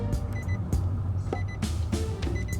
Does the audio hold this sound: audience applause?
no